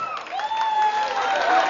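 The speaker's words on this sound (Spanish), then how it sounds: "Aplausos la número 3." Crowd noise at a beach queen pageant for the 2014 beach season in Vinces, with lively voices and scattered cheering holding steady for a couple of seconds while a voice carries over it.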